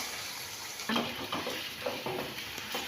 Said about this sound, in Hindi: लहसुन अदरक में गोश्त को कम से कम 5 से 6 मिनट में भूनूंगी